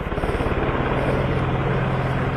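A Mi-17 military helicopter at a high-altitude advanced landing ground in Ladakh thunders close and loud, its rotor beating in a fast steady chop over a dense engine roar.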